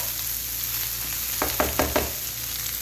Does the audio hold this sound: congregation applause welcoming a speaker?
no